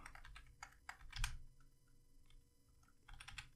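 Fingers typing on a computer keyboard, quiet close-up clicks in short uneven bursts with a brief pause in the middle, over faint room hum.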